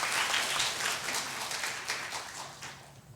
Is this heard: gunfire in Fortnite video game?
no